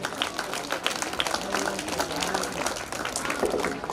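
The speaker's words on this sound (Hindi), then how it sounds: "जोरदार तालियां बजनी चाहिए" Applause from guests at a hostel day function welcoming dignitaries, fairly faint and distant with scattered claps, alongside a low murmur of voices.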